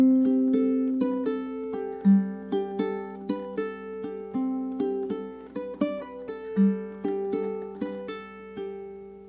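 Ukulele plays a Celtic etude passage, measures three through six, with thumb-fretted notes; clear plucked melody notes in a steady flowing rhythm, close and moderately soft, with no talking.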